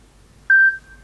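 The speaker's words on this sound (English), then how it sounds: "Just like a plain old beep." A single clean electronic notification beep from a Samsung Galaxy Z Flip phone, steady in pitch, sounding once for about a quarter second against near silence.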